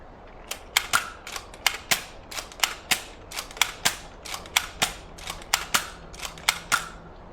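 Rapid game gunshots in Black Mirror 3 aimed at a bunny, a string of about twenty sharp cracking pops fired in a quick, slightly uneven rhythm, close and loud with nothing else underneath.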